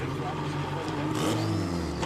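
Formula Regional race car engines idle and rev at a track before a single-file restart, a mid-pitched mechanical drone with rising revs, heard under a commentator's speech.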